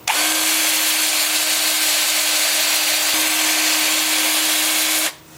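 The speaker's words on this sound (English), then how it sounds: "the 2-inch sanding disc with the lathe spinning forward at about 350" Sanding of butternut wood with a 2-inch sanding disc against a piece spinning forward on a lathe at about 350, a steady loud whirring hiss with a low hum that holds for about five seconds, then cuts off.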